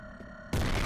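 A grenade goes off in the shooter game F.E.A.R., a sudden loud blast that cuts in after a low ambient drone and fills the clip with dense, sustained rumble.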